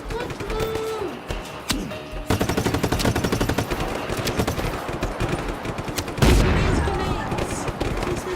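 Rapid gunfire and explosions in the video game Just Cause 3, a dense clatter of repeated shots with a heavy blast near the end, loud and busy under excited talk.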